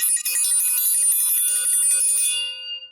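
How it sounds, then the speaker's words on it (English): A bright bell rings once and sustains a shimmering, high metallic tone for a few seconds before fading out, loud and close with nothing else around it. "I'm ringing the bell for that"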